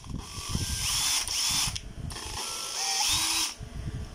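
Used Japanese-market Makita or Hitachi cordless drill running at its low speed setting, a steady whirring motor hum with a couple of brief pauses and restarts, close and loud with no talk.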